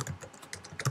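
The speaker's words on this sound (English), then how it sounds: "In the terminal, you type in" Quick keystrokes on a computer keyboard while typing a command into a terminal, a short burst of close, distinct clicks with brief gaps between them.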